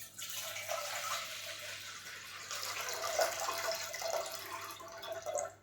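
Water poured into ground rice for coconut-milk appam batter, a steady, moderately loud liquid splash and trickle running continuously with no talking.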